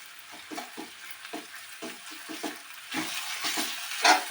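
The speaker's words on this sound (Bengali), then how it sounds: "পোস্তটাকে আমি তেলের মধ্যে একটু নেড়ে" Poppy seeds stirred in hot oil in a pan for a Bengali ol-cauliflower jhura, with a steady soft sizzle and a string of scraping spoon strokes close by, no voices.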